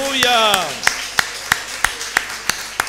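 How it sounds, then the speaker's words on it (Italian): In an evangelical church service in Guidonia, a congregation claps in a steady rhythmic beat, sharp regular claps about three per second. A voice sings or speaks over the opening before the clapping takes over. "Facciamo un forte applauso al nome del Signore."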